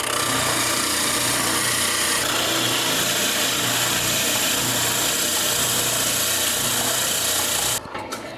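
A handheld power tool grinds and shapes wood, adding a curved end to a piece, a steady loud abrasive rasp running nearly continuously before cutting off near the end.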